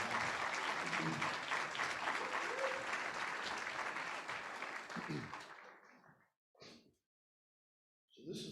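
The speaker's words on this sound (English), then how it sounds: "let's give them another round of applause." A room full of guests at the Wine Pull 2021 event applauds loudly for a couple. Clapping is dense at first, then fades out, followed by silence and a couple of brief voices.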